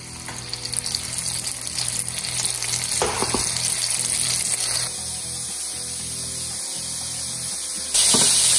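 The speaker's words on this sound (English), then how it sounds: "beautifully coated and ready to put in the fryer" Coated Korean shrimp deep frying in hot oil give a steady, loud, close crackling sizzle that holds throughout, with a few brief clinks and bursts of spattering.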